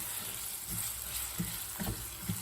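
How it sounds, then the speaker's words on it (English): Celery frying in olive oil in a pan while being stirred, a steady close sizzle with soft scraping stir strokes recurring every half second or so. "I've added some olive oil there and a bit of celery"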